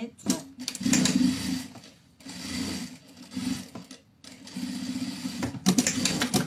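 Sewing machine stitching a narrow 5 mm seam on a small fabric pouch: close, steady mechanical whirring in bursts of one to two seconds separated by short pauses, with someone speaking over parts of it.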